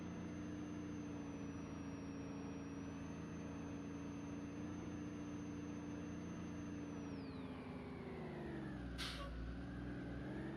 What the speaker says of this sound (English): I really like the brake sounds.